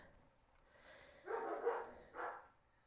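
A dog barks twice in quick succession, faint and distant, against a quiet background.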